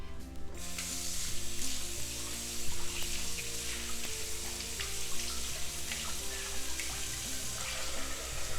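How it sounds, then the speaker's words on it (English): Water runs steadily from a kitchen tap as hands are rinsed partway through making a no-bake cheesecake, a continuous hiss lasting the whole stretch at moderate level, layered over steady background music, with no one talking. "I'm gonna wash my hands again"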